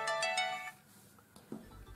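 A phone rings with a bright electronic ringtone, set off by the find-phone feature of an S28 smartwatch; the tone sounds close for under a second, then stops and leaves faint handling noises.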